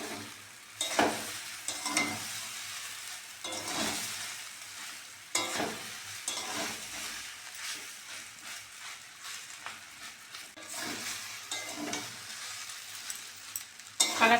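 Semolina poha is stirred in a pan, with bursts of spatula scraping and a soft sizzle that come and go between quieter moments. The sound is fairly faint and there is no speech.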